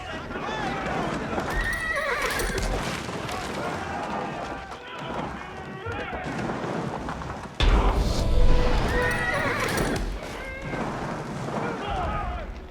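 Horses in the Age of Empires 4 video game whinny and neigh repeatedly over clip-clopping hooves and busy game sounds, with a louder burst partway through.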